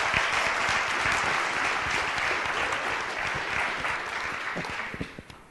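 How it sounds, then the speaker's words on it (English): Sustained audience applause at a motivational talk for a participant named Shannon, dense and steady clapping that holds for several seconds before thinning out into a few last claps near the end. "Let's give Shannon another round of applause."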